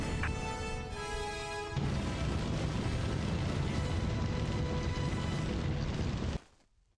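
Demolition charge blowing up a missile in the SOCOM US Navy Seals 3 game: after a short tonal hum, a loud sustained roaring blast rumbles for several seconds, then abruptly cuts off.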